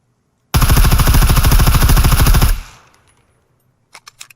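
Automatic rifle fire from an Mk18 or AS Val in the game Scum: one loud, close, continuous burst of about two seconds. Its tail decays, then a few faint clicks follow.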